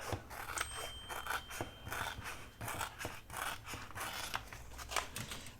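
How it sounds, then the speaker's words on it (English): Scissors snip through a laminated paper napkin stuck together, trimming right along its edge, with a steady run of close, crisp cuts and scraping rustles at an even rhythm. "we're going to cut it apart. And I'm just going to cut right at the edge of that."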